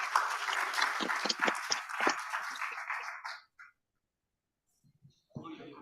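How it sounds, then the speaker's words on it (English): Audience applause fills a room after a talk, dense steady clapping for about three seconds that stops abruptly, with a few faint sounds after a pause. "And a round of applause here for all of you for showing up."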